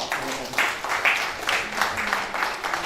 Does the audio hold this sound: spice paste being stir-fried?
no